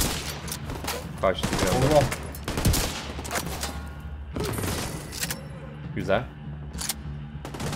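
Gunfire in the video game The Division 2 rattles in bursts of rapid shots and heavy thumps, loud and close, with players talking over the shooting.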